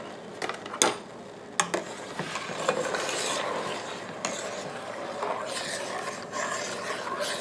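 Sure Gel pectin stirred into boiling peach and lemon juice while making peach jelly, with sharp spoon knocks at first, then continuous rasping scrapes against the pot, close by and with no talking.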